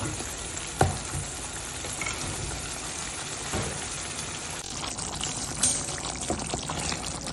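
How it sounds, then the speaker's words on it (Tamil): Chicken gravy for an Andhra-style chicken dish simmers in a covered pan, giving a steady, close, moderately loud bubbling and sizzling hiss with a few faint knocks, and no voices. "இப்போ நம்ம மூடி போட்டு வேக வச்சிடலாம்."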